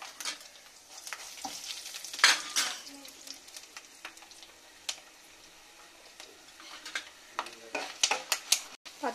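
Peanuts, chana dal and dried red chillies frying in oil, a light crackling sizzle broken by irregular scrapes and taps of a spoon stirring them in the pan, close and moderately loud, no speech.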